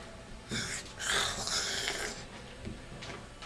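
A person snoring: a few rough, wheezing breaths up close, one long drawn-out snore in the middle with shorter ones around it, alone in a quiet room.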